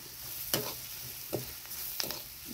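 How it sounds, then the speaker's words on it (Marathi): Coriander powder, turmeric and homemade red chilli powder fry in hot oil with a soft, continuous sizzle, while a spoon scrapes the pan in three distinct strokes. "आता हे मसाले तळून घेते चांगलं."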